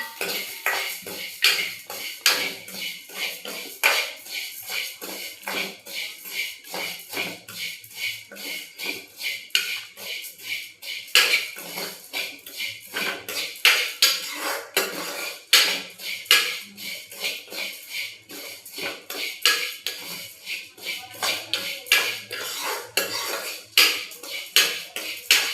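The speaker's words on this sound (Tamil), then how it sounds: "முந்திரி திராட்சை வறுத்ததுலேயே சேமியை போட்டு வறுக்க போகிறோம்." Vermicelli roasting in a pan with cashews and raisins, stirred with a utensil that scrapes and clinks against the metal in a busy, irregular rhythm throughout, without speech.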